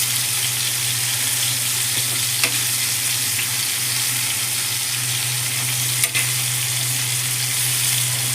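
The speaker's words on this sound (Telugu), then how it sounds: "ఆయిల్ అలా తిప్పుతూ ఉంటే ఒకే చోట ఉండకుండా అన్ని బాల్స్ ఆయిల్ మంచిగా పడుతుంది." Chicken keema balls deep-frying in hot oil give a steady, loud sizzle and bubbling hiss throughout, with a low hum underneath and a couple of brief clicks, no talking.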